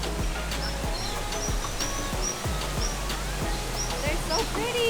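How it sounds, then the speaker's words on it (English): Flock of small birds chirping at feeding time at Disney's Animal Kingdom, many faint, high, scattered chirps over steady outdoor ambience with repeated low knocking sounds. "They're like a million little birds. So he is feeding the birds right now."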